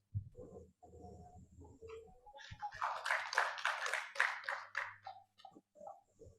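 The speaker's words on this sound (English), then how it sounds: "can we please have one more round of applause for Mr. Wiratno?" Conference audience at a keynote session applauding speaker Mr. Wiratno: after a short stretch of talking, a dense round of clapping swells for a few seconds, then thins out as a voice returns.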